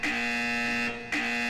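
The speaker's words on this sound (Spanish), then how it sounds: "¡Ay, la alarma!" An alarm in the Roblox game blares during a diamond robbery from a safe, a loud continuous electronic buzzing tone that cuts out briefly and then resumes.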